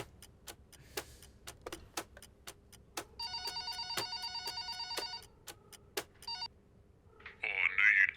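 A telephone rings during a radio-style call, a faint repeating electronic ring against a ticking background, followed by a louder burst of sound at the end.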